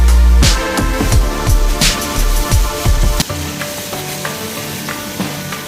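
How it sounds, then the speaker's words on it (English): Mutton ribs frying on slow fire in a pot, with a loud bubbling sizzle and repeated knocks and scrapes of stirring that ease into a quieter sizzle. "Just fry it for 1 to 2 minutes on slow fire."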